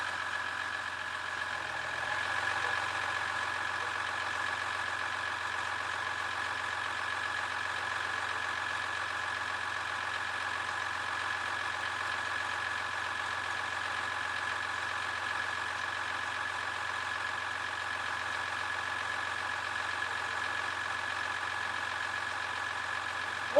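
A 2014 Ram 1500 pickup with a ZF 8-speed transmission idles in drive during a transmission fluid exchange, a faint steady hum with a constant tone and low rumble that barely changes, no talk.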